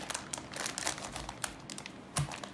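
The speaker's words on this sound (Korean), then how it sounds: "두 제품 다 이렇게 정전기 방지 비닐이라고 해야 되나요? 이 비닐로" Anti-static plastic bag wrapped around an RTX 2060 graphics card crinkling as it is handled, a run of quick, sharp crackles and rustles of varying loudness, close to the microphone.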